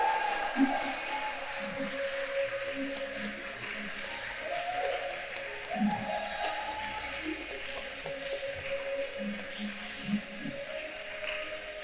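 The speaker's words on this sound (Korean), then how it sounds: "신랑이 입장할 때 힘찬 박수 부탁드리겠습니다" A wedding congregation applauds as the groom enters, a steady, fairly faint wash of clapping that carries on for several seconds with a soft murmur underneath.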